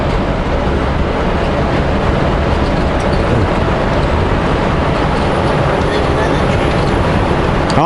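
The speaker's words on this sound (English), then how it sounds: "Oh, and there's another train down here." A train rumbles steadily near a highway outside Kamloops, with a dense, constant low roar that stays loud and unbroken throughout, blended with road noise.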